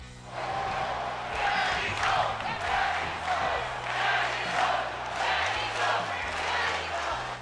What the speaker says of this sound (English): Ciampa, as rather than chant "Welcome Home," the crowd will instead chant "Daddy's Home."